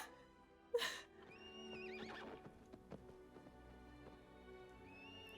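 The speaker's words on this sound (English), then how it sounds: "Yeah, so that's the wild horse." A wild horse neighs in a western drama, one loud sharp whinny near the start followed by hoof clip-clops and snorts, set under a soft music bed with no talk.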